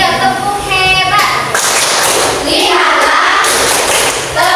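First-grade primary school class in an Islamic studies lesson performing the "tepuk hebat" clap cheer for a classmate, dense rhythmic clapping and thumps with children chanting along, loud and close.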